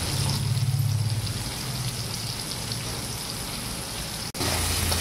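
Potatoes and pointed gourd frying in hot oil, a steady, dense sizzle that crackles evenly throughout with a faint low hum beneath, broken by one brief dropout near the end; no one speaks.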